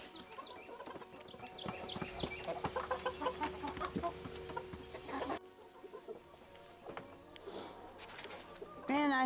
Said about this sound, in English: He is a pretty rooster.